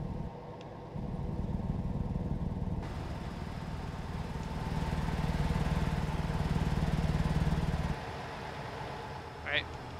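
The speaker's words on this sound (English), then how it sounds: "Let's see what the engine brake sounds like." A Volvo truck's engine brake in American Truck Simulator, engaged at high speed, makes a loud, steady mechanical drone that starts abruptly, holds and slightly swells for about seven seconds, then cuts back to a quieter engine hum.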